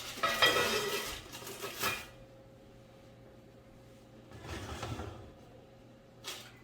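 A pan of sourdough cheese bread goes into an oven preheated to 400 degrees, with a cluster of metallic clatters and scrapes, a second burst of clanking a few seconds later and a faint click at the end.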